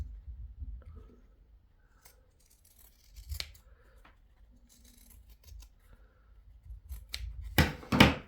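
Scissors trimming a fabric seam on a sewn sailor hat, giving quiet intermittent snips and rustles of cloth, with a louder burst of cutting near the end.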